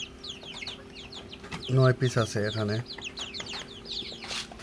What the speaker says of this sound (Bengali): এখানে আমরা গলাশিলা নিয়ে আসছি, আমাদের খামারে গলাশিলা মুরগের বাচ্চা